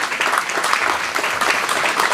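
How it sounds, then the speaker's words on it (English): Diners at a college Hall of Fame awards banquet break into steady applause, a dense, loud, continuous wash of clapping from a room full of people. "let's give OTs a big round of applause."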